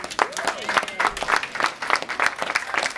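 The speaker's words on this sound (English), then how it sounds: "So please give them a round of applause as well." Applause from a small audience at a foster home Christmas gathering, a steady patter of clapping hands at close range, uneven and lively, carrying on without a break throughout.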